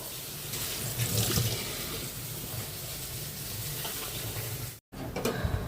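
Water pours into a fish curry with beans, cauliflower and eggplant, a steady close rushing splash that cuts out briefly near the end before resuming.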